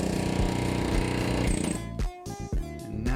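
Pickle fork being hammered to separate a suspension ball joint on a C3 Corvette front end; loud rapid metallic hammering, close, then breaking into a few separate heavy strikes with short gaps.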